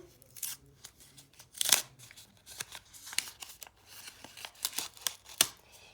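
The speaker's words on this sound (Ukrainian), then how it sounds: "Беремо упаковочку, наш пакетик, відкриваємо." Crisp crinkling and rustling of a Kinder Surprise plastic wrapper being torn open, with scattered sharp crackles close up and no talking.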